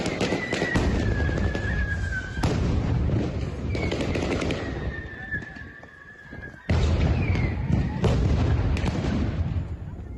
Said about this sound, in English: You hear the shots, you hear the explosions